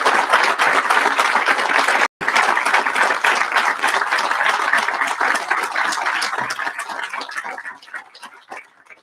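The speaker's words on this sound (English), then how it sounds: "Leadership and service like this deserves applause." Applause at a US Army Corps of Engineers St. Louis District change of command ceremony, a steady sustained clapping from an audience that gradually thins and fades toward the end.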